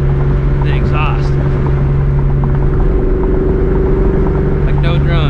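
A 2004 Ford Mustang GT with a Borla ATAK exhaust cruising in fourth gear, a constant low engine drone and road hum under loud wind noise inside the cabin, with a person talking over it.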